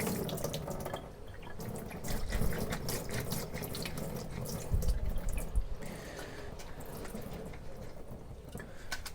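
Tap water runs steadily into a sink while something is rinsed and washed by hand, with splashing and dripping surges, close and moderately loud throughout.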